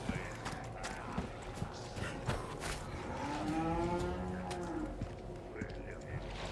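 A cow lowing in Resident Evil 4, a long, drawn-out moo rising in the middle over a busy bed of game noise, footsteps and clatter, fairly close and loud.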